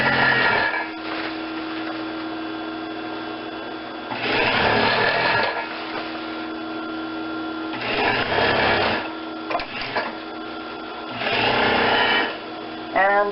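Sewing machine stitching fabric in several separate bursts, each a loud, close motor whir lasting about a second or so, with quieter handling noise between runs.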